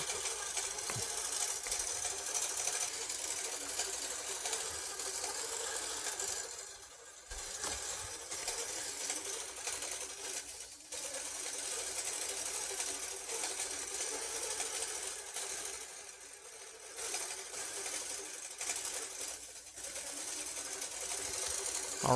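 Computerized sewing machine stitching automatically, a steady close mechanical whir running continuously with a few short dips where it slows or pauses.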